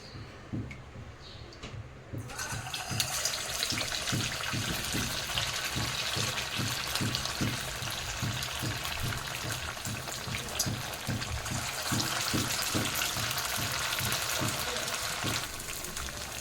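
Sabudana vada slide into hot oil in a kadhai, and a broad steady frying sizzle rises suddenly after a quiet start and keeps going for the rest of the clip, with faint repeated low ticking in the background.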